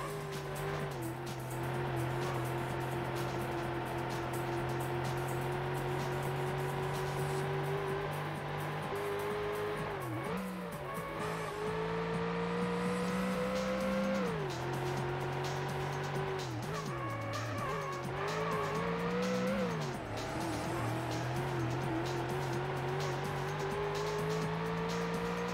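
A Ford Taurus race car howls around a track in the Ford Racing video game, its engine droning steadily with pitch swells and dips through gear changes, tires squealing in corners, loud and continuous for the whole lap.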